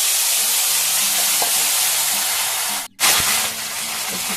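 Fried ridge gourd tossed with bay leaves and a dried red chili sizzles loudly in a hot pan with a broad, steady hiss, briefly cut off near the middle and then resuming with a burst of crackling as the pan is stirred.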